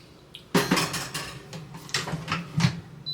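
A food dish clatters against metal as it is slid into a convection toaster oven, a quick run of close, bright knocks and scrapes lasting a few seconds.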